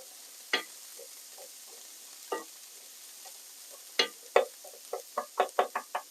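Chopped onion fries in a pan while a spoon stirs it: a soft sizzle sits underneath a series of distinct scraping knocks that start sparse and then quicken into a rapid run near the end.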